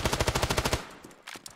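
A rapid burst of about ten sharp gunshots in the video game Standoff 2 fires in quick succession, then stops, leaving faint scattered clicks and noise.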